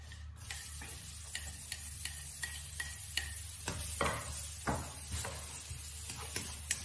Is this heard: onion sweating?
yes